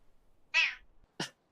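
A pet cat gives one clear, close meow, then a short, sharper chirp-like call about half a second later, against an otherwise quiet room.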